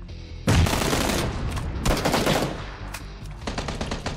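Rapid bursts of automatic gunfire rattle out close and loud, several long volleys with brief gaps, like a machine gun firing in the video game PUBG during a squad tournament match.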